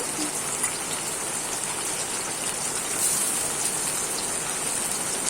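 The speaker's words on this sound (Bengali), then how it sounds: "বাইরে প্রচণ্ড বৃষ্টি হচ্ছে" Heavy rain falls outside, a dense, continuous roar of drops on surfaces that stays loud and even throughout, with no voices.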